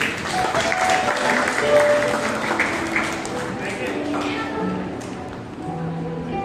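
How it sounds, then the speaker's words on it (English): An audience at a church New Year prayer meeting claps steadily for several seconds, a dense burst of applause that slowly thins out, with a voice speaking faintly underneath. "Let's clap for her."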